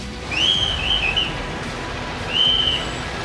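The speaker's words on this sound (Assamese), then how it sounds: "হয়তো যান বাহন আৰক্ষীৰ হুইচেল হৈ পৰিব অতীত।" A traffic police officer's whistle sounds at a city traffic point with two shrill blasts, a longer warbling one first and a shorter steady one later, over a low street background.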